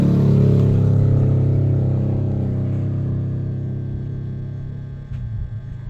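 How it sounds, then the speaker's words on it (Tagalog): A loud motorcycle engine roars close by, its low rumble steady at first and then slowly fading as it moves away, with no talking. "Dako bitaw kay tingog tong motora, anak, oy."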